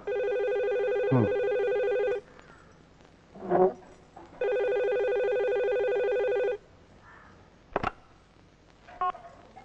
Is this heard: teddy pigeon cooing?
no